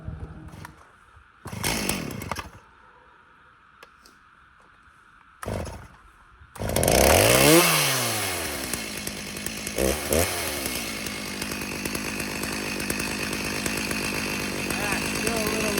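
After a few short noises, a chainsaw starts and revs up loudly, then keeps running close by at a steady whine. A voice speaks over it.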